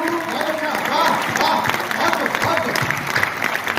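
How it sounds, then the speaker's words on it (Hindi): Audience applause at a Hindi comedy poetry gathering (hasya kavi sammelan) in Hisar: dense, steady clapping from a crowd that fills the whole stretch, with a voice partly audible through it. "तुम्हारी तालियां हिम्मत बढ़ाती हैं।"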